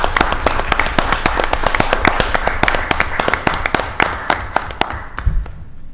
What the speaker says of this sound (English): just one more round of applause for all our distinguished,